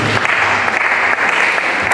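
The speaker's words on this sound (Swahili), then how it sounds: "Tuongeze makofi na vigelegele kwa mtumishi wa Mungu na mchungaji Mbele Chapati" A congregation applauds loudly at a church building dedication in Dar es Salaam, a brief, dense burst of close clapping with a faint voice mixed in.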